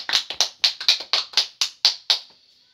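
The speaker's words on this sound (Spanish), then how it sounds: "Un aplauso para don Ángelo." Audience applause for a speaker at a family talk on blood pressure, about ten distinct, fairly close hand claps in quick succession that thin out and fade to a short tail, with no voices.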